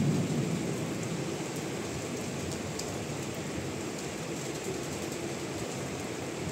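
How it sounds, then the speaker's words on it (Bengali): Steady, dense rain pours through a night thunderstorm, heard close by from an open window; a low rumble of thunder rolls beneath the continuous hiss, with no voices. "বৃষ্টি এসে গায়ে পড়ছে, আরাম লাগছে"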